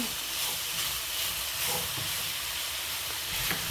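Banana flower being stir-fried in a pan, a steady hissing sizzle filling the whole stretch with faint scraping touches and no voices over it.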